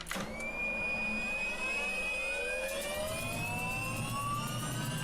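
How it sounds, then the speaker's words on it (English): A motor spins up after being switched on, its whine rising steadily in pitch, loud and close and running alone without talk. "So when I turn the motor on"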